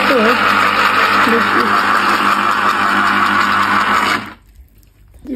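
A kitchen blender whirs loudly and steadily while making juice, running continuously before cutting off abruptly, leaving a quiet room.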